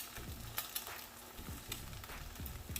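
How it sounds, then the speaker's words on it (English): Food frying in a nonstick Always Pan gives a faint, soft sizzle with light scattered crackles and occasional scraping stirs, quiet and close with no voices. "Let that cook up a little bit, frying nicely."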